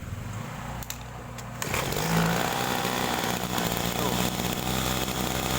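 A small carburetor engine on a crop sprayer starts again and runs with a loud, steady buzzing drone that steps up in volume partway through, preceded by a brief voice and faint handling noises.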